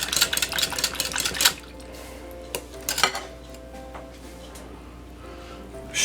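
Whipping cream mixed in a bowl with a utensil for bread pudding, with clattering bursts of metal against the dish early on and again near the middle, then quieter scraping.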